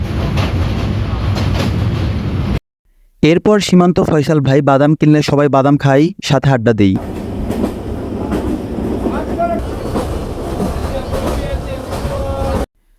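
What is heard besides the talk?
train riding across Hardinge railway bridge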